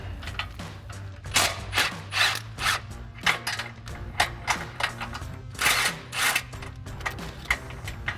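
A ratchet wrench with an 18mm socket removes nuts from a Jeep Gladiator JT front bumper. Close, loud, rhythmic clicking strokes repeat in short bursts, with no talking.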